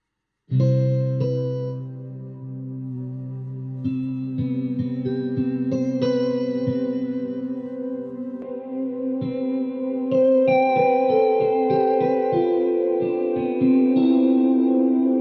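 Distorted, band-limited music with sustained chords and a rhythmic pulse, sounding thin and boxy like a small car radio speaker, from the car radio effect of the Fracture Sounds Hemisphere instrument.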